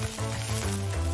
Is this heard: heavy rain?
no